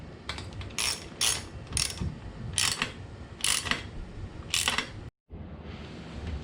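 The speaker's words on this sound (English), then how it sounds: "now we can go ahead and tighten down the header." Ratchet clicking in several quick bursts while tightening the exhaust header on a KLX351 motorcycle during an EFI build, close and crisp, with short pauses between strokes and no talking.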